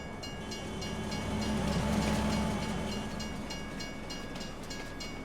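A train passes in Farming Simulator 22 on a line at Edgewater, Saskatchewan, a steady rolling rumble with rhythmic wheel clicks that swells to a peak and then slowly fades.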